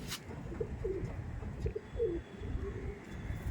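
Low, rolling coos from a Delhi Madrasi pigeon repeat several times in short phrases, close by over a steady background rumble.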